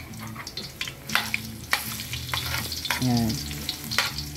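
Garlic frying until brown for miso sinigang, a loud crackling sizzle with clattering stirring of a utensil in the pan, close up, with a short spoken word and brief voice sounds over it.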